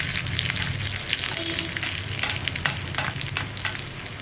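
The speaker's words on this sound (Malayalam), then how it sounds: "ഇനി വറ്റൽമുളകും കറിവേപ്പിലയും ഒന്ന് കുക്കായി വരട്ടെ." Dried red chillies and curry leaves fry in hot oil for a Kerala cucumber and dal curry, giving a loud, steady sizzle with crackling pops and occasional stirring scrapes up close.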